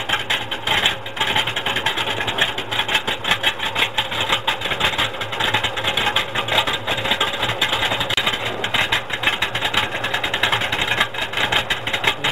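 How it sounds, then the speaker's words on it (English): A 1966 Chevelle SS 396 with a 454 engine idling, its exhaust a steady, continuous rumble heard from behind the car, loud and unbroken throughout. "you'll be able to hear the exhaust from behind the car"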